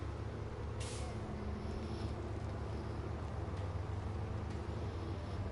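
Truck air brakes in the video game Snowrunner give a few short hissing bursts over a loud, constant engine rumble.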